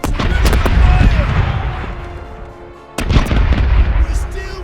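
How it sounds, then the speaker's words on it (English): Starboard ship cannons firing in the pirate naval battle game Corsairs Legacy, two separate volleys of deep rapid booms, each rolling off into a heavy rumble. "Starboard cannons are ready to fire!"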